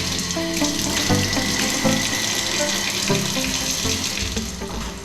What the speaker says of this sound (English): I'm about to take my last real shower in a while.